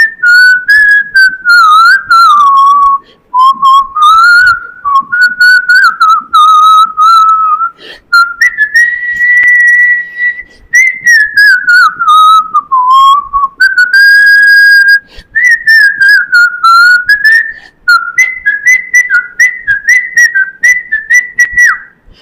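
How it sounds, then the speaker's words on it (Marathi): A person whistles a song melody loudly and close up, phrases running continuously with brief pauses and shifting pitch, the whistling alone without talk. "आता वेळ झालेली आहे शिट्टीच्या गाण्याची. मी शिट्टीतून गाणं म्हणून दाखवणार"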